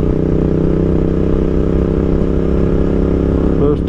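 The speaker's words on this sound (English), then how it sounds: "First time I've ridden it on the Royal Enfield though" A Royal Enfield Interceptor motorcycle cruises along a country road, its engine a steady, loud drone with dense low harmonics running throughout, plus a brief clatter near the end.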